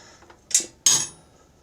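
A metal part drops out of a Husqvarna YTA18542 riding mower during a cam replacement, landing as two quick, bright metallic clinks in otherwise quiet surroundings.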